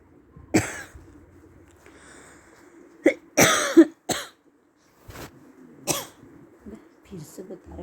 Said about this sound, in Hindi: बच्चे में खांसी आ जाती है